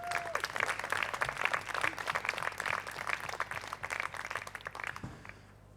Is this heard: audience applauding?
yes